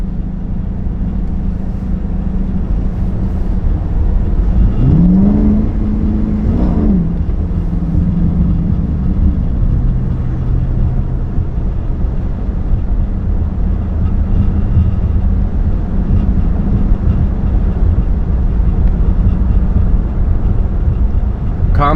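Straight-piped 2022 Chrysler 300 S with a 5.7 V8 drones loudly from inside the cabin, with a sweeping rise and fall in pitch as it accelerates through gears around the middle, then a steady heavy exhaust rumble.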